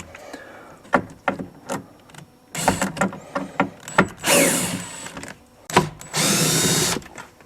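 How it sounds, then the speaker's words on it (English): A power drill backs four small T15 Torx screws out of a 2003 Suburban rear door speaker, giving several short whirring bursts and two longer runs, with clicks and handling noises in between. "I'm going to use the drill. And we back these 4 screws out"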